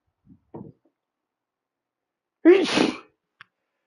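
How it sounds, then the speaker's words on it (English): A single forceful sneeze erupts close up after a couple of faint sharp inhales, then quiet returns with a small click. "And I sneeze really hard too."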